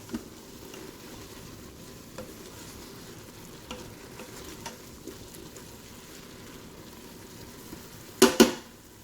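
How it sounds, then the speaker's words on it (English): Wild rice stew of vegetables, broth, salt and pepper being stirred in a Ninja Foodi pot, a soft steady simmer with faint scrapes, and two sharp clanks of a utensil on the pot near the end. "We're going to stir that around."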